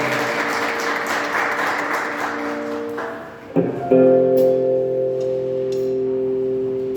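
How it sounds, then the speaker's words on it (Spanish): Applause from a church congregation, a broad dense wash that thins out after about three seconds, joined by sustained tonal music or a held keyboard chord that swells and continues to the end. "Denle un aplauso al Señor"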